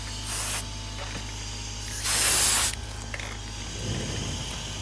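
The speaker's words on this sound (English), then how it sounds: "Now to get my tires looking back new, I just spray them down with Awesome." Short pressurized bursts of tire cleaner spray onto RC truck tires, one brief hiss followed by a longer, louder one, then quiet handling sounds.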